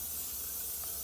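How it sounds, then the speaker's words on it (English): Cooking spray hisses from an aerosol can while a new Shirley Fabrication 24x60 Straightback smoker is being seasoned, making one steady, close, airy spray that lasts the whole moment. "Hopefully I got enough cooking spray."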